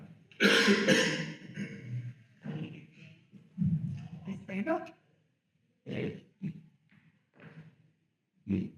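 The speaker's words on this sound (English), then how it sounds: "I'll start by apologizing for my cough" Several harsh coughs and throat-clearing bursts, close and fairly loud, spaced out with short pauses between them.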